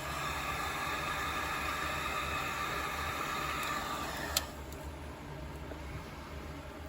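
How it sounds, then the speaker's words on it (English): A heat gun blows a steady, loud hiss while fusing clear encaustic wax, its airy roar filling the air before the tone drops slightly and continues more softly. "I'm going to do a quick little fuse with my heat gun"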